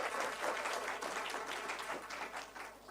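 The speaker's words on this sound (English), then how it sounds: "I think you also deserve a big round of applause" An audience at a book launch gives a short, steady burst of clapping, fairly soft and even throughout.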